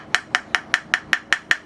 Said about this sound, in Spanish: a continuación vamos a lijar por dentro para sacar lo que tiene el carrizo